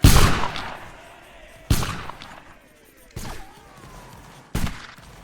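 Rifle volleys in a 95th Rifles video game, four loud sharp fusillades spaced about a second and a half apart, each ringing out and fading.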